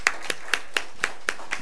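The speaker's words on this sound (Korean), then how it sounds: "우리 박수 드릴까요?" Sparse, evenly spaced hand claps from a church congregation during a Sunday worship service, about seven sharp claps in under two seconds, fairly light and not a full applause.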